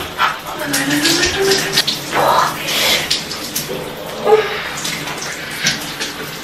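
A shower runs with a steady broadband hiss of spraying water, loud and close, while a person talks and gasps over it in short bursts.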